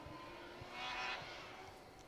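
A BMW 3 Series rally car with a 2.5-litre BMW M engine, heard on a forest stage at the Kielder Forest Rally, gives a steady mid-distance engine drone that swells briefly louder around its midpoint before easing back. No one speaks.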